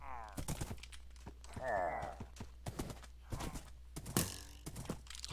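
Horse hooves in the Minecraft video game clop in a quick, uneven run of sharp thuds, with a brief whinny-like sweep early on and a louder thud near the end.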